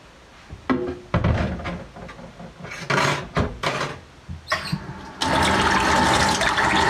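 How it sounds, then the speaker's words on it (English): Excess liquid dumped out of a bowl after rinsing it, while making honey mustard beer ribs: clattering handling, then a loud rushing pour of water that runs on steadily and close. "We're going to dump the excess out, of course, after we wash our bowl out."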